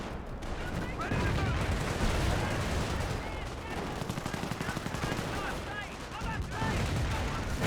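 Cannon and machine-gun fire from a Cromwell tank in the Company of Heroes game, with dense repeated shots and explosions over a steady battle din and a commentator talking throughout.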